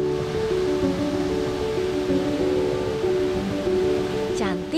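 Curug Cikante, a waterfall in West Java at a site with several falls, fills the scene with a constant broad rush of falling water. The roar stays loud and steady throughout while a person talks over it.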